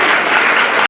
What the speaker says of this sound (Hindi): तो सभी शिक्षकों के लिए एक बार जोरदार तालियां।